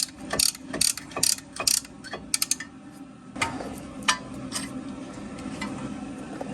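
Ratchet wrench clicking while working on the brakes of a 2015 Ford Fusion, with quick bursts of close ratcheting clicks in the first few seconds, then softer scattered mechanical clicks and handling noise.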